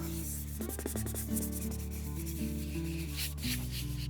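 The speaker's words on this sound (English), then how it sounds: "take the inside of your carrier sheet that the transfer was attached to and rub, rub, rub, rub, rub" A transfer carrier sheet is rubbed over a painted wooden riser in a soft, close, repeated back-and-forth scrub, quiet and dry, with faint light taps and no speech.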